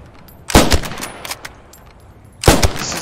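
K98k bolt-action rifle firing in Post Scriptum, two sharp, loud shots about two seconds apart, each with a short ringing tail into quiet background.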